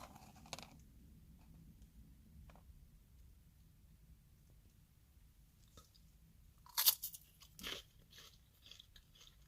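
A few sharp crunches of caramel chocolate popcorn being bitten near the end, after a long quiet stretch with faint mouth sounds.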